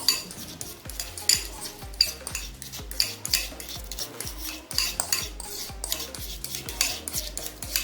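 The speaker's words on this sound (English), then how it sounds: "I have finished mashing my tomato ketchup and my egg yolk." A metal utensil mashing and mixing ketchup with cooked egg yolk in a bowl for deviled eggs, a steady series of soft clicks and scrapes against the dish, repeating roughly every half second at close range.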